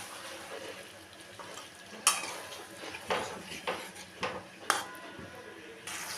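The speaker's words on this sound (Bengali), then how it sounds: "দিলাম ভেজে রাখা ফুলকপিটা, দিয়ে খুব আলতো হাতে মিশিয়ে নেব" A spoon clinks against a pan while fried cauliflower with spices is gently mixed, several light taps and scrapes spaced a second or so apart over a quiet background.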